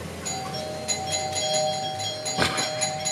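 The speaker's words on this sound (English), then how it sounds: "You know he gotta ring the doorbell." A doorbell chimes inside a home, its tones ringing clearly through a quiet room with a soft rustle near the end and no talking.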